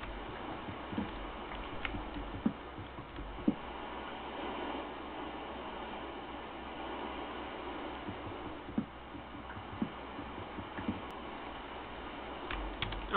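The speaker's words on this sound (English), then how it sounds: "Oh, it's raining." Rain falling in the game Minecraft: PS1 Edition, a steady, muffled, low-fidelity hiss that holds evenly throughout with scattered faint clicks and ticks over it.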